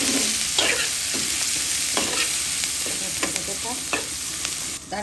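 Chicken gizzard curry with onion, cinnamon, bay leaves, cloves and pepper sizzles in a pan. It is stirred in repeated scraping strokes, close and steady, with no talk.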